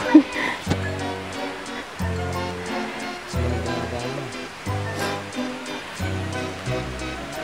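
A natural waterfall at Mahogany falls in Trece Martires, Cavite, heard as steady rushing water beneath intermittent talking and other voices moving nearby.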